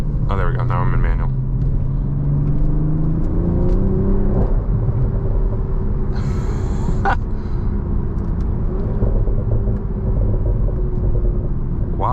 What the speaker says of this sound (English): Wow, the exhaust is so fun.